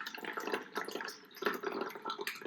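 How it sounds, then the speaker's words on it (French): About 200 g of water poured into a container sitting on a kitchen scale, a soft continuous splashing trickle, quiet and close, lasting a few seconds with no talking. "Je vais donc ajouter 200 g d'eau."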